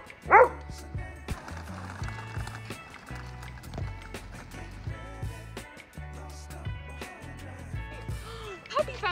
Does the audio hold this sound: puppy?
yes